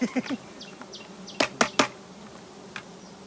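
Giant honey bees swarm around a low nest beside a road, a close buzzing drone broken by a few sharp passes and clicks, with no talking.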